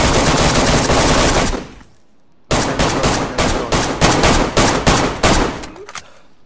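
Rapid bursts of automatic gunfire from a video game, loud and close, with a long opening volley, a short silence, then a string of sharp repeated shots.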